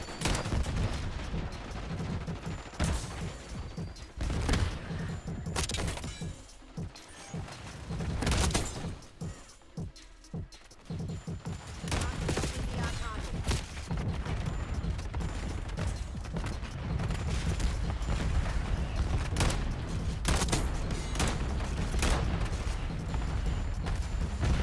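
Gunfire from the Essex Model 07 rifle in Black Ops 6, shots and mechanical action in dense game battle noise, loud and continuous with brief quieter gaps.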